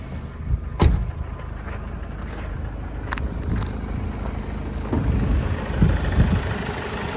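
A steady 2.0-litre diesel engine of a 2010 Opel Vivaro passenger van idles close by, a low even rumble with a few faint clicks and knocks, no voices.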